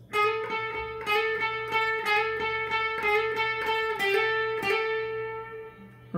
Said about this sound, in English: this last one is a full bend